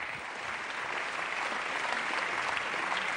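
An audience applauds the makers of a film at a televised screening, a soft, even wash of clapping that stays steady and fairly distant throughout.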